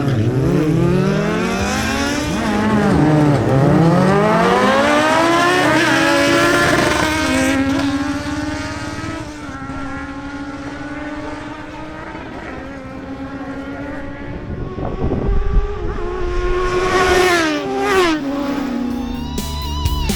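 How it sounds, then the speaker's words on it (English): Two Kawasaki Ninja Z1000SX motorcycle engines scream through rising and falling revs, loud and close, gear changes audible as the pitch drops and climbs again during a drag run. "Now two Kawasaki Ninja Z1000SX motorcycles face off"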